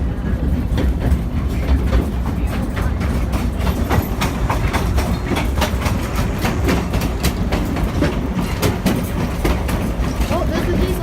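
Diesel locomotive on a narrow gauge railway rumbling past with steady rhythmic clickety-clack of wheels on rail joints, loud and close throughout.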